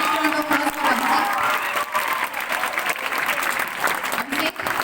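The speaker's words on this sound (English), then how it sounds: "Please take round of applause for Abhishek." A school prize-giving audience applauds a senior boy receiving the champion trophy, with steady dense clapping held throughout and some crowd noise and voices mixed in.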